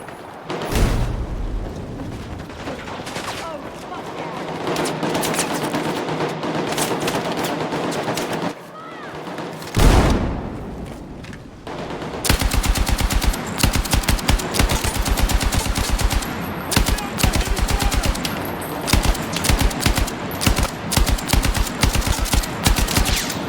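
Battlefield 6 campaign combat rattles with sustained, loud machine-gun fire, a brief lull broken by a blast, then dense rapid bursts of automatic gunfire alongside shouted in-game voices.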